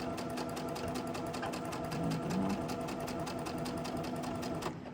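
A sewing machine stitches quilt blocks into a flying goose unit, a rapid steady mechanical chatter with regular needle beats, close and moderate in volume, stopping at the end.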